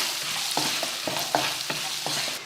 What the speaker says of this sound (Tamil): 2 பெரிய வெங்காயம், கொஞ்சமாக சின்ன பூண்டு 2 போட்டு வதக்கிடுவோம்.